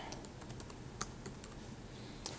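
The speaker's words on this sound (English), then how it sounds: "So type in the word power." Quick keystrokes on a computer keyboard as a search word is typed into Windows 8, a steady run of light close clicks with a couple of sharper taps, no talking.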